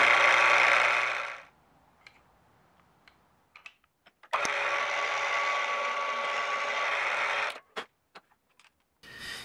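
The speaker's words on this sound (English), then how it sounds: "I'll drill the holes in succession to exactly fit the ones on the shadow, using a pin to orient them and make sure the holes line up" A power drill bores holes in a knife handle in two loud, steady bursts with a gap between them, ending in a few sharp knocks and clicks, with no speech.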